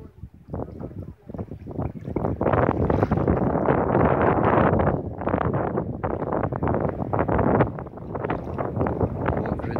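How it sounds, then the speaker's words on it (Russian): Strong gusty north wind at the seaside in Arkhipo-Osipovka buffeting the microphone in loud, uneven bursts, with the broad rushing roar of open air; no clear speech. "Он как раз северный ветер в сторону моря дует."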